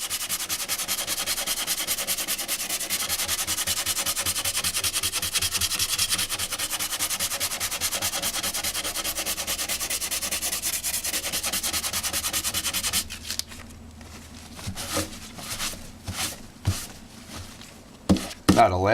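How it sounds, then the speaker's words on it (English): Close, continuous rubbing and scratching of sandpaper on a CA glue-filled surface on a Honda, steady for about thirteen seconds, then broken into shorter, irregular strokes and taps. "Now when I sand that down, what's going to happen is the little dust is going to go into the little holes"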